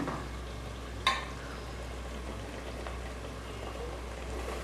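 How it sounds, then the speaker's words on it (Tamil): Onions with ground ginger-garlic paste and turmeric sautéing in oil for a chicken curry, a soft steady sizzle throughout with one sharp clatter near the start. "வெங்காயம் போட்டு வதங்கிட்டு இருக்கு. இஞ்சி பூண்டு அரைச்சி அதையும் போட்டுருக்கேன். எல்லாம் போட்டு வெந்துக்கிட்டு இருக்கு. எண்ணெயில் வதங்குது பாருங்கள்."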